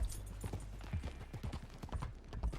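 Hooves of a Missouri Fox Trotter horse in a video game clip-clop in a quick, uneven gait, soft and fairly quiet, with a steady run of footfalls throughout.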